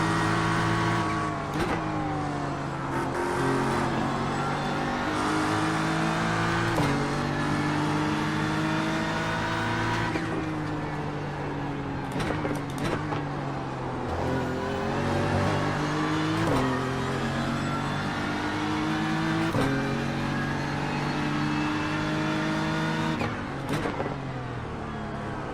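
GT3 race car engines in the iRacing sim at Imola, loud and continuous, with repeated revving climbs and drops as gears shift, filling the whole stretch without talk.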